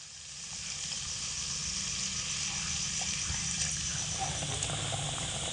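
Water pours into sizzling spiced masala in a pan, a steady close rush and hiss that holds at an even level with no talking.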